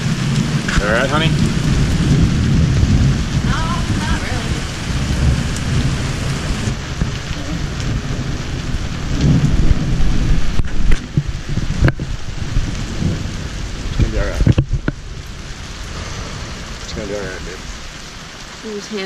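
Loud, heavy rain drums down during a lightning storm on a sailboat off Turks and Caicos, with deep thunder rolling beneath and brief voices speaking early on over the downpour.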